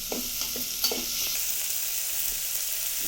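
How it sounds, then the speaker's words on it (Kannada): Onions browning in a hot pan of oil for a sambar tempering, a steady close sizzle with a few quick stirring scrapes near the start. "ಒಗ್ಗರಣೆ ತುಂಬ ಚೆನ್ನಾಗಿ ಆಗ್ತಾಯಿದೆ. ಈರುಳ್ಳಿ ಎಲ್ಲ ಈ ಥರ ಬ್ರೌನ್ ಬರ್ತಾಯಿದೆ."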